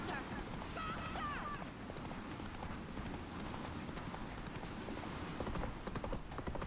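Roach, a horse in The Witcher 3, galloping with steady rapid hoofbeats under a dense game soundscape, with a brief whinny near the start.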